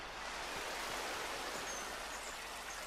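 Steady flowing water in the video game Darksiders 2, a soft continuous rushing wash heard alone at low level.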